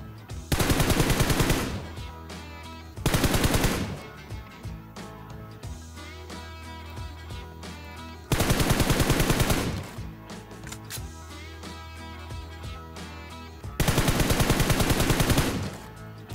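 Automatic gunfire from PUBG Mobile bursts in four loud, rapid rattling volleys of one to two seconds each, separated by quieter stretches of game ambience and background music, with no talk.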